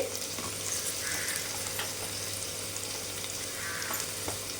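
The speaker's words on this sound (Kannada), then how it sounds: "ಇಷ್ಟನ್ನು ಈಗ ಫ್ರೈ ಮಾಡಬೇಕು ಒಂದೊಂದೇ ಹಾಕಿ ಫ್ರೈ ಮಾಡಬೇಕು" Onion, garlic and chillies fry in a pan for mutton masala, sizzling in a steady, close hiss throughout with faint stirring scrapes and no speech.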